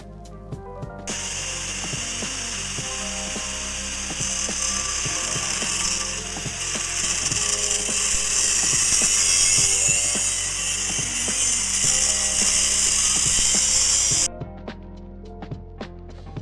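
A cut-off wheel slices through a steel scooter frame tube during a homemade electric scooter build. The harsh, close grinding screech runs steadily for about thirteen seconds, with repeated clanking knocks underneath, before it cuts off abruptly.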